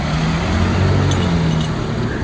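A car passes on the road during a walk with a toy poodle, a loud, steady rumble of engine and tire noise close by.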